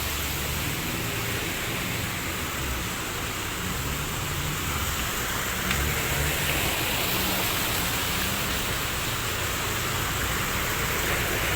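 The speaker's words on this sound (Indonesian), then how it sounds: "curah hujan mulai cukup tinggi nih" Heavy rain falls on a flooded city street in central Amuntai, a dense, constant hiss of water pouring down and splashing on standing water, loud and unbroken throughout.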